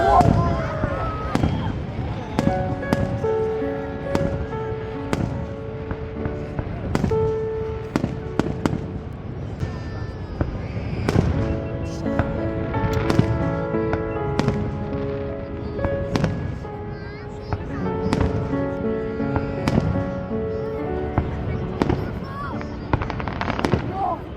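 Fireworks burst over Niagara Falls in a night show, sharp crackles and booming pops coming in irregular bursts over a dense rumble, with crowd chatter and voices in the background.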